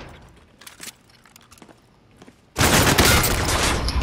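Sustained loud automatic gunfire in Call of Duty: Modern Warfare erupts abruptly after a quiet stretch of faint clicks and movement, continuing as a dense, close burst to the end.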